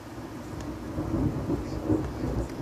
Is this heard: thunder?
yes